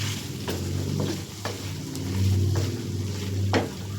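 Kasuri methi and coriander leaves being stirred into a sizzling pan, a steady fry hiss with a few soft scraping strokes of the spoon, close and moderately loud, no voices.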